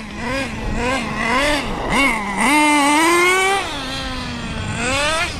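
A nitro RC car engine buzzes close by at a high pitch, settling into a two-stage idle and then revving up and down in smooth, continuous swells with no talk.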